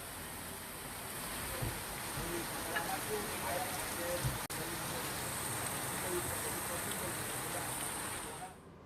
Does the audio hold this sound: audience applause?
no